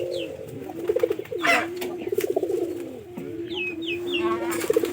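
Domestic pigeons coo in rolling, repeated phrases close by, several birds overlapping in a steady rhythmic burble with a few higher chirps near the end.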